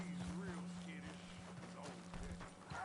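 Hooves clip-clop in Red Dead Redemption 2 as a horse moves at a steady pace, close and continuous beneath someone talking over the game.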